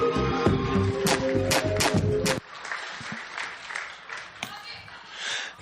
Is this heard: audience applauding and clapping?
yes